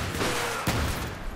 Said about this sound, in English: I can also do a little shotgun sniping from a pretty good distance